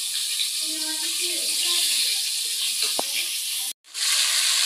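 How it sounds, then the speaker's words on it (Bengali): Masala sautés with tomato and potato in a pan, giving a steady bright hissing sizzle, with faint voices in the background and a brief cut near the end. "এই যে আমি টমেটো আর আলু দিয়ে মশলাটা কষাই নিচ্ছি।"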